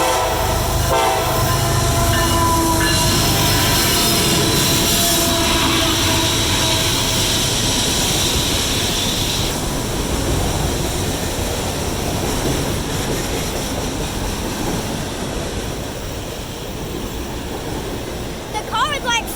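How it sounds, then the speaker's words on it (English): A two-engine autorack freight train rolls past close by, a loud continuous roar with wheel clatter and horn blasts early on, steady for the whole stretch, while people talk over it. "We got a 200 autorack train here."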